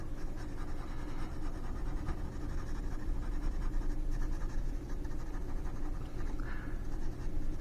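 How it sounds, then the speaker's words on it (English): Dark brown pencil sketching shadows over fold lines on paper, a steady close scratchy scribbling that carries on throughout. "where I already put my folds, I can kind of just go over them a little bit more with the darker brown. So just sketching a little bit"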